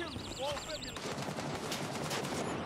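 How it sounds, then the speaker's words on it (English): Rapid automatic gunfire crackles in the shooter game Gray Zone Warfare, dense bursts rattling continuously at mid distance while a player talks excitedly over them. "Oh! They're shooting."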